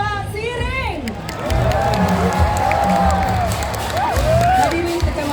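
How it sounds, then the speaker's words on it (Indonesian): Loud crowd at a Balinese cultural parade in Gianyar cheers and whoops continuously, with shrill children's shouts and a dense babble of voices filling the open-air scene. "berikan tepuk tangan untuk Duta Kecamatan Payangan"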